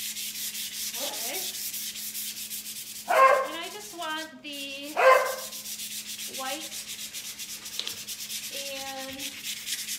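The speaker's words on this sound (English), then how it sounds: "and you're going to give it a light sanding." Fine-grit sandpaper lightly sanding painted wood on a furniture paint project, a steady broadband rubbing that runs close and continuous throughout, with someone briefly speaking over it a few times.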